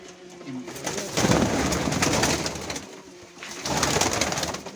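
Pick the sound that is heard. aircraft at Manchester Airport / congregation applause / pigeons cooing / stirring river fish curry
pigeons cooing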